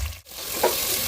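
Steady close sizzle of onions, tomatoes and green chillies frying in oil in a kadai, with a short dip and a small burst, brief and without talk.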